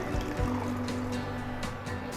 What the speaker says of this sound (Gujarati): હું અહીંયા 2 બાઉલ જેટલું પાણી એડ કરું છું